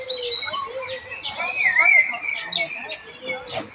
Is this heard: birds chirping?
yes